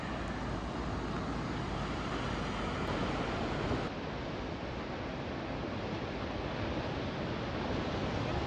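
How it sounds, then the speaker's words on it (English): Waves and wind at Aberdeen Beach, Scotland: a dense, continuous roar of surf mixed with wind buffeting the microphone, loud and steady throughout with no voices. "Aberdeen Beach."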